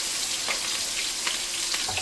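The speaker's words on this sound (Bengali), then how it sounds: "তেল গরম হয়ে গেছে, আলুগুলো ভেজে নেব।" Potatoes fry in hot oil with a close, steady crackling sizzle and small spattering pops, and no voices over it.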